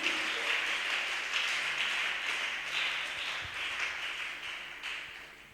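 A church congregation applauds together in a steady, fairly distant wash of many hands clapping that continues throughout and fades slightly toward the end.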